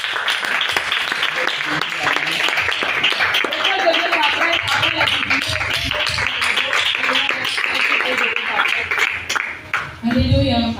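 A church congregation applauds, a dense and sustained round of clapping that goes on loud and steady, with a voice speaking over it and the applause dipping near the end.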